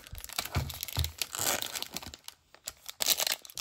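Foil wrapper of a 2023 Bowman jumbo baseball card pack crinkling and tearing open close up, a run of loud crackly rips and crumples with brief pauses, no talking.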